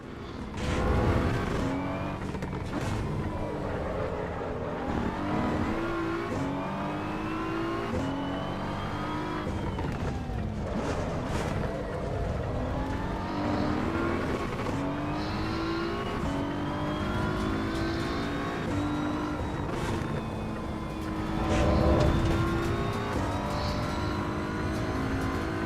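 A BMW race car engine in the Assetto Corsa EVO racing game drones and revs through gear changes, rising and falling in pitch with occasional tire squeal, loud and close throughout with no talk.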